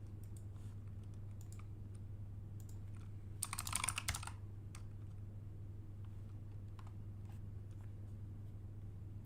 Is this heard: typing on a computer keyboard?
yes